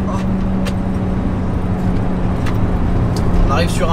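Racing-derived straight-six of a BMW M5 E28 droning steadily from inside the cabin while driving, a low continuous engine hum with road noise and someone speaking over it.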